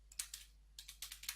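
Quick, light keystrokes on a computer keyboard as a terminal command is entered, about nine crisp clicks in two short uneven bursts, close and fairly quiet, with no talking.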